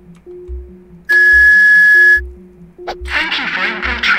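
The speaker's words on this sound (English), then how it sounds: "tone of 2600 hertz is required to activate this trunk line." Inside the Jazzpunk video game, a loud pure 2600 hertz whistle tone sounds for about a second over looping electronic game music and beeps, followed by a burst of noisy static.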